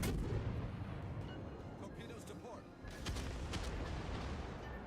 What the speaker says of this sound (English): he's going to hit me with torpedoes and I'm going to die